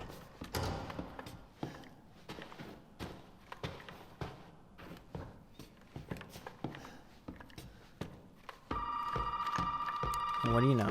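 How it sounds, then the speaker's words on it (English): A telephone rings in a survival horror puzzle game, its steady electronic trill setting in near the end after a stretch of scattered thuds and footsteps while someone talks over the gameplay. "Phone was ringing after I got the item."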